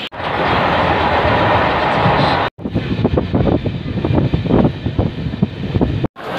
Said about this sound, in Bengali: আর এই যে ট্রেনে উঠবো।